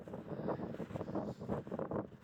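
Cold wind gusting across a snowy lakeside trail while snowshoeing, rumbling in uneven bursts against the microphone with no voices.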